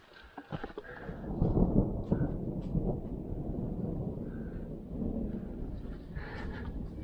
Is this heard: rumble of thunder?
yes